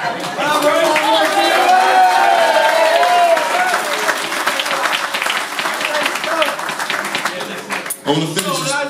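Wedding guests applaud during the groom's speech, a dense, loud burst of clapping and cheering that fills the room before fading, with voices mixed in near the end.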